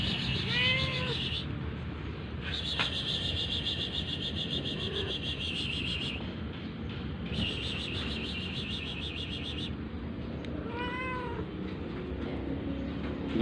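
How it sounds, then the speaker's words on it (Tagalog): A sweet, playful and noisy pet cat meows close by, with a short drawn-out meow near the start and another toward the end over a steady background hiss. "Dami pang ngiyaw."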